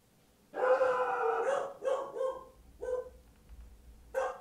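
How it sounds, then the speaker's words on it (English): Several dogs howl and yip in a chorus of drawn-out, wavering cries, pausing and starting again in short bursts, fairly close, while a low rumble sits underneath. "There's the dogs."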